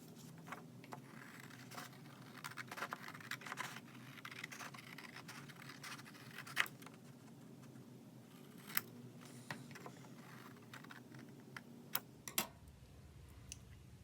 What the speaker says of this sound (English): The first thing we're going to do is cut the outline of the snowflake.